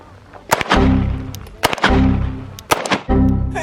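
Pistol fitted with a Radian Ramjet compensator firing three sharp, loud gunshots about a second apart, each with a booming low tail, outdoors with no talk.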